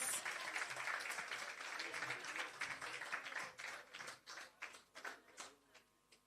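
An audience at a ROOFS shelter recovery handing-over ceremony applauds as a guest comes to the stage; dense clapping gradually thins into scattered individual claps and fades out.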